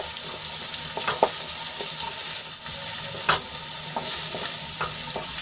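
Finely chopped onion sautés in oil with a spice paste for a dry brinjal dish, a constant sizzle broken by the scrape and clack of a spoon stirring against the pan every second or so.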